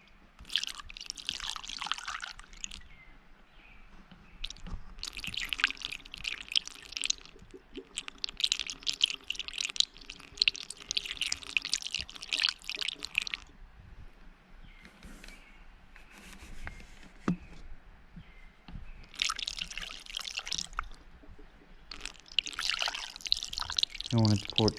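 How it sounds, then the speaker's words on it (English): Coolant poured through a cleaned funnel into an overheated KTM dirt bike out in the woods, a bright trickling splash in bursts with pauses between, faint and close, with some quiet talk. "commence the pouring"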